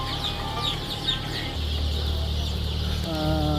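Chickens clucking inside a chicken coop, several birds giving overlapping clucks and short calls over a steady low hum, close and fairly loud.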